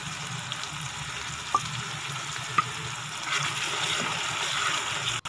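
Finely chopped ginger and spices frying in a pan for a pumpkin and chana dal curry, a steady soft sizzle with two brief clicks of a utensil, the frying growing a little louder toward the end.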